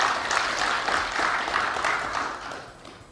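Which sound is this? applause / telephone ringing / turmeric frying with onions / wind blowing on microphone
applause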